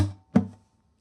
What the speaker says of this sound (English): One click and another dead note on the fourth string with the index finger.